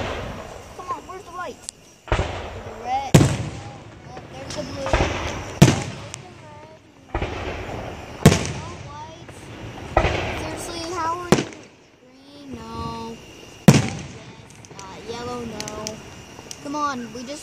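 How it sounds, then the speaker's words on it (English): A fireworks finale at a fest bursts in repeated sharp booms spaced a second or two apart, each blast ringing out and fading while children's voices chatter and exclaim between the explosions. "It's a bomb of fireworks."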